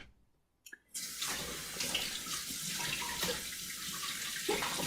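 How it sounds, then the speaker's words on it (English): After a brief near-silence, warm tap water gushes into a kitchen sink as hands are washed under it, a steady close splashing stream that shifts as the hands move. "So I'm just over to the side here washing my hands."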